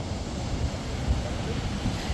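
Sea surf washes steadily at Maravanthe beach as a low, continuous roar, heavily buffeted by wind striking the microphone, with occasional thumps of gusts.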